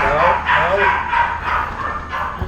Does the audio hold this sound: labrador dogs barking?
yes